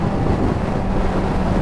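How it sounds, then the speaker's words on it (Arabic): Strong wind blowing into the face on a road trip, a steady loud broadband rush of buffeting air across the microphone, with no speech. "هنا برضو الهوا في وشنا بطريقة مش ظريفة"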